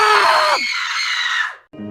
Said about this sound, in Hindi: फिर एक बॉम्ब फटता है और इन दोनों की चिल्लाने की आवाज आती है